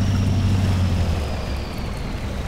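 Truck engine running with its motor submerged in a muddy river in the off-road driving game Spintires: MudRunner, a steady low rumble with a faint high whine above it, continuous and close, no voices.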